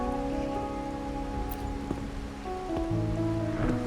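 Rain falls steadily in the video game Wuthering Waves, a continuous soft hiss of drops spread evenly across the scene, with sustained gentle tonal ambience layered underneath and no voices.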